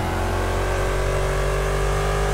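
A Porsche race car engine revs hard in an online racing video game, a loud, continuous buzzing roar that holds steady throughout.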